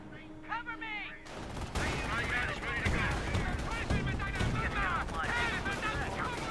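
Panzer Grenadiers in a garrisoned building fire rifles from the windows in Company of Heroes, a dense run of rapid overlapping gunshots that starts abruptly and continues with a battle din, under a talking voice.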